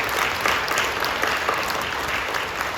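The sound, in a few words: congregation applauding in church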